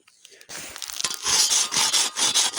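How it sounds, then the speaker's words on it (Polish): A hand saw cutting through thick ice on a frozen lake, rapid rasping back-and-forth strokes that start after a brief quiet moment and grow louder and steadier, heard close up with no talking. "Na początek muszę wywiercić sobie świderem cztery dziury, a następnie taką piłą."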